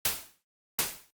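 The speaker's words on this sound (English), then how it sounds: "that is our just white noise, like our noise oscillator" Two short bursts of white noise from a synthesizer noise oscillator, each hissing in sharply then fading over a fraction of a second, separated by silence, quiet and clean.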